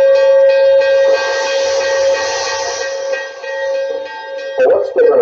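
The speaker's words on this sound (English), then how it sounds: "C-7470 whistles through the valley." A loud, sustained whistle from steam locomotive C-7470 on the Conway Scenic Railroad blows for several seconds through a valley with a hissing edge, then breaks into shorter blasts and chuffing noise.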